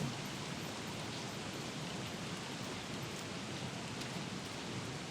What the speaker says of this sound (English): It is indeed frog rain weather.